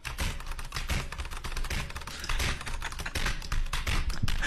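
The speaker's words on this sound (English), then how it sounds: "This poor keyboard." Hard, rapid typing on a computer keyboard during a Genshin Impact gaming stream, a dense continuous clatter of loud key strikes and thumps with no speech.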